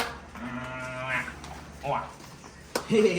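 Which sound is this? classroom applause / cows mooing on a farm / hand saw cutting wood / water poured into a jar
cows mooing on a farm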